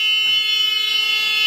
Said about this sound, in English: When we raise the handle, the door alarm will go off